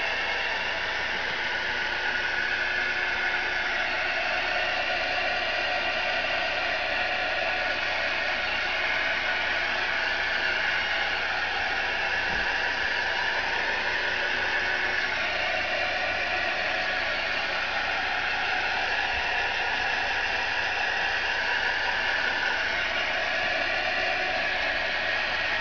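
Heat gun blowing hot air, a steady even hiss held for the whole stretch at moderate loudness, close by and without talk.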